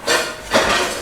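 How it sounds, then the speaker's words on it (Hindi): A small pan in a home kitchen is lifted and set back down, giving two close, dull metallic knocks about half a second apart. "ये मैं छोटा एक पैन ले लेता हूँ"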